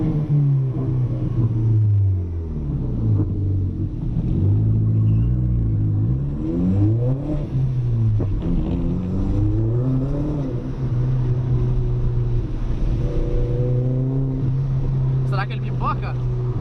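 A turbocharged Audi A3 1.8T drives in the rain, its engine droning and rising and falling in pitch through repeated revs and gear changes, heard up close from inside the car with people talking over it.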